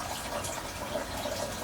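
Seawater gushes from a disconnected raw water intake hose on a boat engine, whose ball valve is stuck fully open. It makes a constant close rushing flow with no talking.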